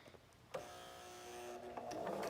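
A sewing machine stitches a fabric face mask in short bursts, with a quiet start, a sudden whirring run of the motor with a steady tone, and a brief pause before it resumes louder near the end.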